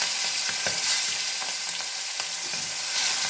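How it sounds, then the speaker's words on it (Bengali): Prawns frying in hot oil in a wok give a loud, steady sizzle with crackling bursts and occasional stirring scrapes, close and continuous with no talk. "এদিকে মাছ ভাজা হচ্ছে"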